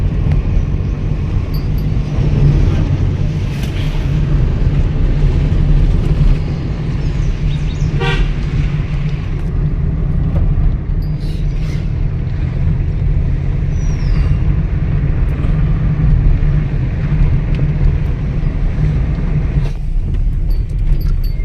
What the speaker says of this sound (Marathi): आपल्या पाठी आता टेम्पो पण येतोय